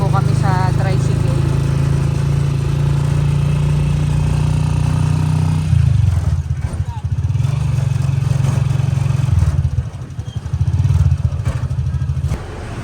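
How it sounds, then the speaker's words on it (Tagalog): A motorized tricycle carries passengers along a road, its engine droning low and steady up close, dipping and rising as it shifts speed, with a voice briefly audible over the motor. "Nakasakay na po kami sa tricycle."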